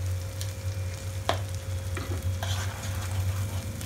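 Spices are stirred into a paneer curry in a pan, a quiet scraping and soft sizzle over a steady low hum, with one distinct knock of the spoon partway through.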